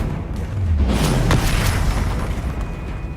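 A Bombarda spell explodes in a video game with a deep rumbling boom that swells and lingers under a steady hiss, with a brief crack in the middle and no voices.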